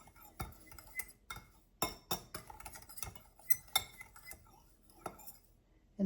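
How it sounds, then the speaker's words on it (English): A metal utensil clinks and scrapes against a bowl in quick, irregular taps while salt and pepper seasoning is stirred up for a pork tenderloin, close and fairly crisp. "We're just going to stir this up"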